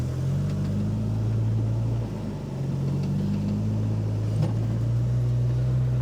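A linked Suzuki Samurai in four-wheel-drive low grinds up a small wall off-road, its engine holding a steady, loud low drone with slight pitch rises and dips under load throughout, and no talking.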